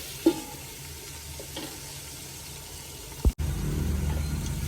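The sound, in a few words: stirring tomato fry in a pan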